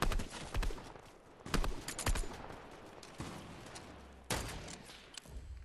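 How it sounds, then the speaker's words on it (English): Gunfire in the Fortnite video game comes as several loud, sharp shots and short bursts scattered over steady background game noise, with a strong blast near the end. "Who's shooting at us, though?"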